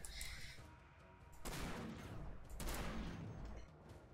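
Gunfire in the video game Damnation, with a sniper rifle in use: two loud, broad bursts of shots about a second apart stand out against a steady background of game noise.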